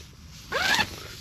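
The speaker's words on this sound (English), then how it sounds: "when you zip this up" ONEWIND Skyshade solo four-season lightweight tent zipper drawn shut in one quick, close, rasping pull lasting about a third of a second, standing alone against a quiet background.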